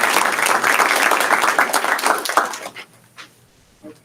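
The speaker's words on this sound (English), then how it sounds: "it doesn't hurt to give them a round of applause this month" A round of applause from the audience at a regular board meeting, dense steady clapping for about two and a half seconds that thins out and fades, with a few scattered claps and faint room noise trailing off.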